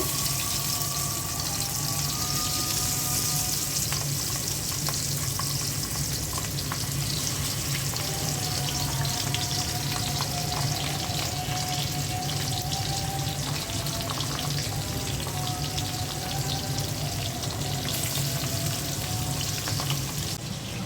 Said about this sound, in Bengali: পাবদা মাছগুলো ভেজে নিব।